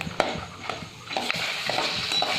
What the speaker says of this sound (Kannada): ಕಾಂಟ್ಲೆಗೆ ಎಣ್ಣೆ ಹಾಕ್ಕೊಂಡು ಚೂರು ಕಾಯ್ತಿದ್ದಂಗೆನೇ ಕಡಲೆಕಾಯಿ ಬೀಜ ಕಡಲೆಬೇಳೆ ಬೇಳೆನ ಕೆಂಪುಗೆ ಹುರ್ಕೊಂಡು